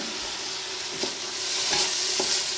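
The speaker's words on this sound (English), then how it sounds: "I'm going to add my vinegar. 2 tablespoons of vinegar in there." Vinegar goes into a hot pan for Sri Lankan chicken curry, raising a loud, steady hissing sizzle broken by a few light stirring scrapes, with no voices.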